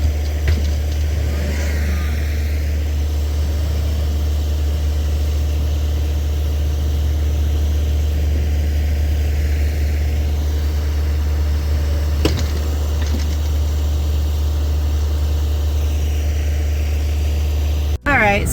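A tractor engine runs steadily for a long stretch with a deep, constant low drone and no clear revving, pulling a vehicle out of snow outdoors, with occasional thumps and faint voices.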